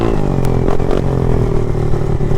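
An Icebear Maddog scooter with a GY6 150cc engine cruising at about 25 mph, its engine humming loud and steady close by, with some light clattering near the start.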